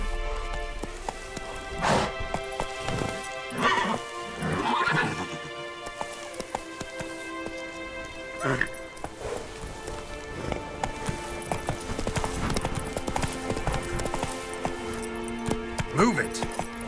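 Hooves of the horse Roach beat in a loose trotting rhythm on the ground in The Witcher 3, with snorts and a whinny under background music and game sounds, while someone speaks.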